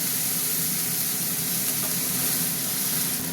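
Onions frying in mustard oil for a chicken curry, a steady bright sizzle and hiss that holds even and close throughout with no talking.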